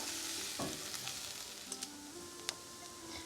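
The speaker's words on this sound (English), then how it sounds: "you just want to stir it up until the sausage gets coated and you no longer see the white" Sausage and flour fry in a pan while being stirred, a steady soft sizzle with occasional scraping clicks from the utensil, close and fairly quiet, without speech.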